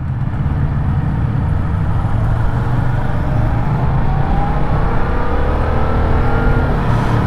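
Yamaha motorcycle engine, MT-07 or R3, droning loud and steady with the clutch pulled, revs climbing gradually throughout with heavy rumble and wind.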